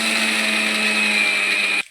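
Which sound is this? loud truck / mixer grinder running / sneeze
mixer grinder running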